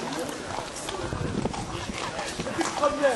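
Horses' hooves clip-clop on the ground at an outdoor animal blessing in Seilles, with people talking over them throughout.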